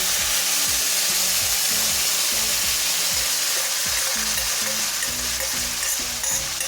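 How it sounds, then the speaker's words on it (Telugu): Yogurt poured into a hot pan of tempering spices for temple-style daddojanam (curd rice) crackles loudly and steadily, with a dense frying sizzle and scattered stirring and scraping knocks throughout. "ఇప్పుడు మనము ఇందులో ముందుగానే పెరుగు తెచ్చి పెట్టుకున్నాం కదండి, ఈ పెరుగును ఇందులో వేయాలండి."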